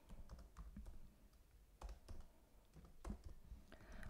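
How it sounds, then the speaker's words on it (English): Typing on a computer keyboard while entering CSS code, a steady run of quick, light key clicks with a few louder strokes, heard close and alone. "You need to start typing media"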